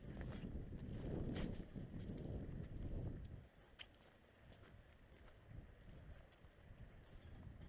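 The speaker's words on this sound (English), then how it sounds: "find a way to block off some of this wind." On an exposed point, strong wind buffets the microphone in gusty, rumbling bursts that ease into a quieter, steady rush, with no talking.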